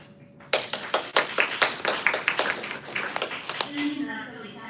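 Applause welcoming a speaker at a global health and sustainable development forum: a small group claps in distinct, fairly close bursts that taper off before a voice starts.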